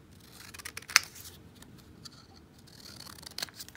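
Scissors snip a paper figure for a handmade 3D enchanted library card, giving a few quiet cuts with one sharper snap near the start, close and alone.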